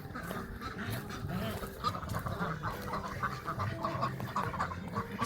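Ducks quack and honk steadily nearby outdoors, a busy overlapping chatter of calls under faint background noise beside a generator being serviced.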